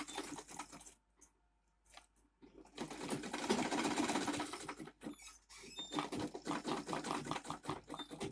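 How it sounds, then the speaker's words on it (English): A sewing machine stitches around the edge of a mini bag in close, fast rhythmic bursts, with short pauses between runs and one longer stop early on. "Let the middle touch the middle, then sew it all the way around."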